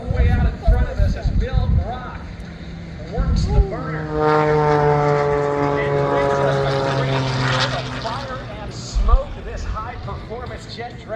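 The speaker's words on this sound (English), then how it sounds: "This jet vehicle that we are seeing here today, powered by the J34 jet engine" A jet dragster powered by a J34 jet engine at an air show: a loud sustained rising whine and roar builds and holds for several seconds, with a commentator talking over the PA before and after.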